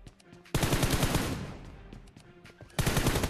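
Rapid automatic gunfire in the mobile battle royale game BGMI, loud close bursts of shots in two long volleys separated by a quieter stretch of scattered single shots.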